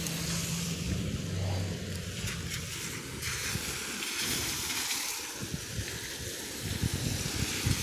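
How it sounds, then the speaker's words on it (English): Cars passing on a city street, a broad steady road rumble and tire hiss that swells and fades as vehicles go by at moderate distance, with no voices. "Damn cars."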